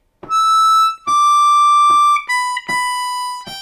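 A G harmonica plays a slow melodic phrase of Auld Lang Syne, four sustained reedy notes with breaths between, the last ones stepping up and down in pitch, close and clear with no talking.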